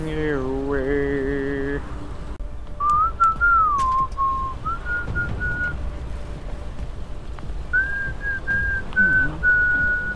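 A teammate whistles into a microphone during a World of Tanks match, warbling a wavering tune in several phrases over game noise, close and fairly loud, with faint talk early on.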